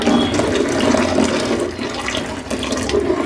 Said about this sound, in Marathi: पूर्ण जे पाणी काढून घेतलं होतं बाजूला ते सर्व यामध्ये ओतून घेतलं